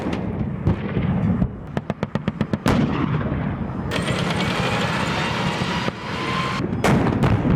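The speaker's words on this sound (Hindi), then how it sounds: "गर्जना सुनिए जरा अब्राम टैंक्स की" US Abrams tanks in a war setting produce loud, close booming bursts and a rapid volley of sharp reports over a continuous heavy roar that keeps going throughout.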